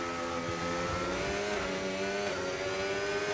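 An F1 race car engine in the F1 25 video game, high-pitched harmonics dipping briefly as the throttle lifts and then climbing right back, loud and continuous with no talk.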